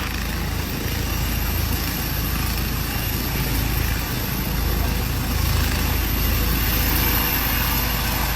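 A helicopter drones steadily with a dense, even rotor and engine roar that holds at constant loudness throughout, with no voices.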